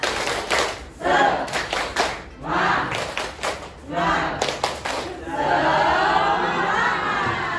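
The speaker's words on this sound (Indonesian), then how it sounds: "Kita tepuk semangat sama-sama ya" A classroom of students stands and performs a rhythmic spirit clap, with bursts of group clapping in patterned groups separated by short gaps, mixed with chanting voices, ending in a sustained round of loud clapping and cheering.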